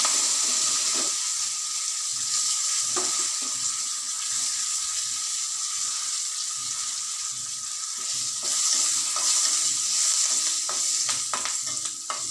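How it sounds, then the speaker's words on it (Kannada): Curry leaves frying in hot oil for an avalakki (flattened rice) dish, a steady close sizzle with occasional stirring scrapes and clinks, no voices. "ಆಮೇಲೆ ಕರಿಬೇವು ಸೊಪ್ಪು ಹಾಕ್ತಾಯಿದ್ದೀನಿ."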